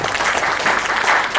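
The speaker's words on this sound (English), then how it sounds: "let's give applause to Professor" Audience applause for a professor at a live-streamed academic session, a steady, dense burst of clapping from a crowd, fairly loud and continuous throughout.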